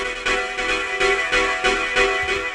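A sustained, gritty synth stab chord without sidechain plays continuously in a hardgroove techno track with only slight rhythmic swells, dense and bright with no pumping gaps.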